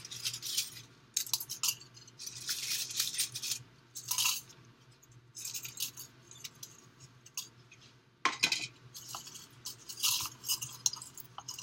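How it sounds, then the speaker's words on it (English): Aluminum foil pieces are stirred into salt water in a container, giving close, irregular metallic clinks and scrapes in bursts separated by brief pauses. "now I'm going to add the foil pieces and stir it again"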